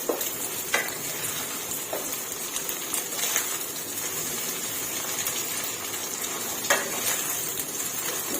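Eggs stir-frying with cabbage in a hot pan, a dense hissing sizzle with a few scattered clinks and scrapes of a utensil against the pan, close and steady, no speech.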